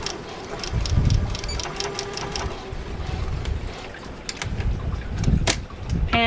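A sewing machine stitching a straight quarter-inch seam on fabric for a dog's tie: a continuous mechanical whir with a rapid ticking needle rhythm that swells and eases as the stitching runs, close by and steady.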